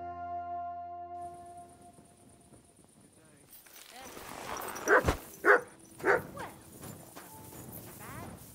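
A dog in the medieval game Kingdom Come: Deliverance II gives three loud, close barks in quick succession after ambient game sounds with hoofbeats, while someone speaks.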